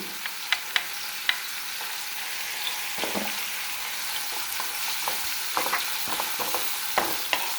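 Fish sautéing in a pan gives a soft, steady sizzle with scattered sharper clicks and scrapes of stirring, moderately close and with no talk.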